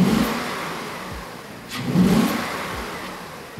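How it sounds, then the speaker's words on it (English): A BMW E39 engine with a custom cold air intake revs up from a steady hum, rising into a throaty intake whoop around the middle, then easing back to a smooth drone. "You can hear it build that whoop as it starts to suck in all that air."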